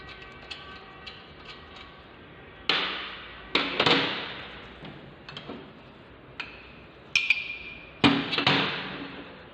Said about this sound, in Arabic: بفك مسمار الكونتر الغفير